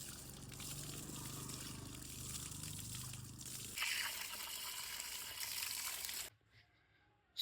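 Tap water runs steadily while someone washes their face at home, a close continuous trickle and splash that shifts in tone partway through and then stops abruptly near the end.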